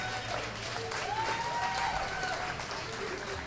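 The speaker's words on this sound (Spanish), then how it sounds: "Un aplauso para Mirza Domínguez." An audience at a comedy roast event in Ciudad Juárez breaks into sustained applause, dense clapping mixed with faint voices and a few whistle-like tones.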